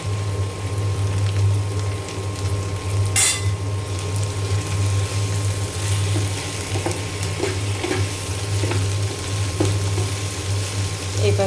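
Okra fries in a pan with turmeric and salt, giving a continuous sizzle under a steady low hum, with a few light clinks from stirring.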